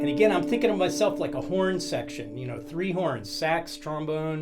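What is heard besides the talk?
None of the usual background noises is heard.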